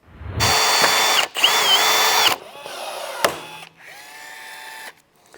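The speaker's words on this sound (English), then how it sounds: "I'm going to go ahead and drill these holes out" A power drill whirs in several bursts, spinning up loud and steady, pausing briefly, then running again with a shifting pitch as it bores holes through a plastic nose brace.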